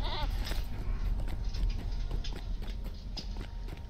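A goat mount in LOTRO, with bleating cries and a quick clip-clop of hooves over a constant loud backdrop of game noise.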